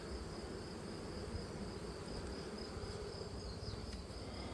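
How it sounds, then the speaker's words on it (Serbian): Honey bees buzz around the hives of an apiary in a continuous, faint, even hum, with no voices over it. "Vidite, pčelice rade punom parom."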